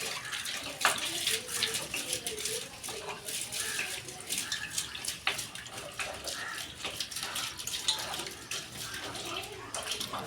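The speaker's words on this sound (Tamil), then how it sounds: "தண்ணி ஊற்றி நல்லா கழுவிக்கலாம்." Water is poured into a vessel and swished around for washing, a steady close splashing and sloshing that runs continuously at moderate volume.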